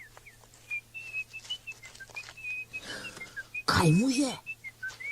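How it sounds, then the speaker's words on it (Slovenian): A high, steady whistling alarm in a cartoon runs through the scene with small pitch wobbles, while voices talk over it and one brief loud exclamation cuts in near the end. "Žvižga alarm."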